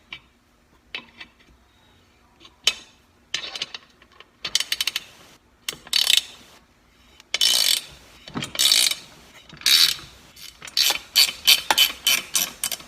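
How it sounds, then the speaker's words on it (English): Ratcheting 7/16 wrench clicks as a vent pipe is snugged onto the lid of a vintage All American pressure canner, close and crisp, starting as sparse ticks and quickening into rapid bursts of metallic clicking. "Now to install the vent pipe, you're going to use a 7/16 wrench."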